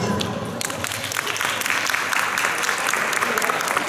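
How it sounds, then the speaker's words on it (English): Audience applause at a high school English debate competition final in a school hall, a dense, steady wash of many hands clapping that swells after the first half second and holds loud throughout, with no voices over it. "Let us give a round of applause for the two best classes in this whole high school."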